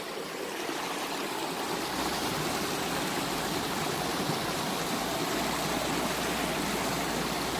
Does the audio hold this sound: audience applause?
no